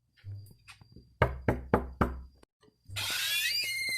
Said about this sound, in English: Why you keep knocking on my door?